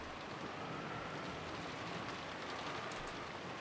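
Rain in the Umineko no Naku Koro ni visual novel, a steady, dense downpour hissing evenly throughout with faint scattered drops, soft and continuous with no voices.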